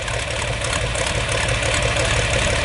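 A John Deere 4020 diesel tractor idles loudly through an open exhaust pipe with its muffler off, a steady close-up rumble with an even low chug and no talk.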